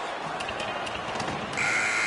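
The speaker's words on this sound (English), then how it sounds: "Final buzzer sounds, and this one's in the books." A final buzzer sounds at a hockey game in an arena, a loud steady electronic tone that cuts in near the end over the continuous crowd noise.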